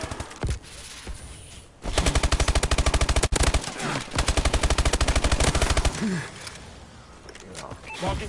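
Rapid video game gunfire crackles in loud automatic bursts through most of the stretch, with short gaps between volleys and a player talking over it.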